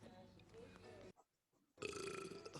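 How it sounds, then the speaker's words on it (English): A person belches in a played back recording, producing a loud croaky burp, then a short silent gap, followed by a second rough burp. "Burping."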